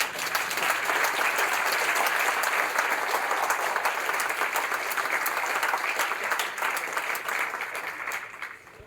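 Sustained audience applause after a Rust DevRoom conference talk at FOSDEM 2023, a dense, even roar of clapping that holds steady for most of the stretch before thinning out toward the end.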